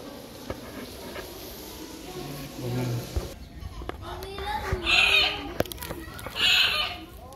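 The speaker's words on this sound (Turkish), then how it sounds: "Tatlı kuşlar." Birds at the Tashkent zoo give loud, chicken-like clucking calls in two bright bursts over a steady murmur of background crowd noise, with children's voices faintly heard.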